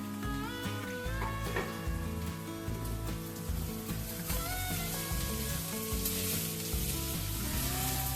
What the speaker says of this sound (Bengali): পেঁয়াজটা একটু ভাজা হলে পর